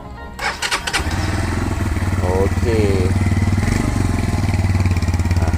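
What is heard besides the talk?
cafe racer motorcycle engine starting and idling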